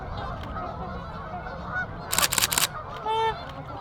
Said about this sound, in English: We got a bunch of geese taking off right